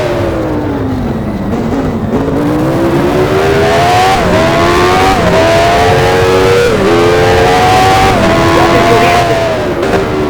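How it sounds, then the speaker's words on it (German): A Formula 1 race car in the F1 Challenge video game, 1983 USA Grand Prix on the Detroit street circuit, drives into the pit lane. The engine drones loud and close, its pitch falling and rising in steps as gears change. "Fährt in die Boxengasse."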